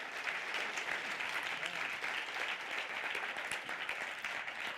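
Audience applause at an awards evening for a diversity prize, a steady, dense wash of many hands clapping that holds at an even level throughout, heard fairly distant and soft.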